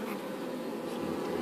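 Bees buzzing in a log hive that has been emptied of honey, a close, steady drone from a small number of bees with no pauses.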